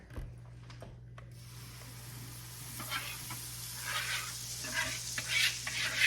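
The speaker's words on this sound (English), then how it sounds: "You're gonna hear the sizzle here in a second when I pour this in there." A loud, steady sizzle of cornbread batter hitting a hot pan builds and crackles, close up, over a low constant hum, with no talking.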